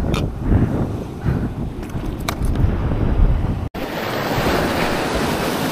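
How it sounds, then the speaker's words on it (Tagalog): Big ocean waves surge and break while strong wind buffets the microphone on a boat heading home from fishing at sea during the northeast monsoon at high tide, a continuous loud roar with one brief dropout. "Pero malalaki pa rin yung alon."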